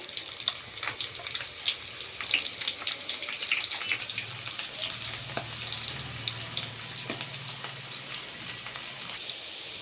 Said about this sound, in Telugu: ఆయిల్ వేడైందండి. కొంచెం లైట్గా ఆనియన్స్ వేసుకుందాం.